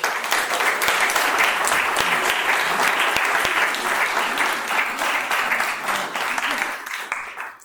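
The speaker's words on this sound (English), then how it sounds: "And we can give her a round of applause too." Sustained applause from a crowd, many hands clapping steadily before tapering off at the end.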